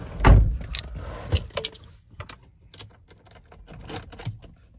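Entering a black 2010 Volvo XC90 2.4 automatic: a loud door clunk up close, followed by scattered rustles, small clicks and cabin handling noises.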